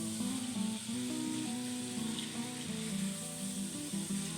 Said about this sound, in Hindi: लेकिन चिकन को मैंने अच्छी तरह भून लिया है।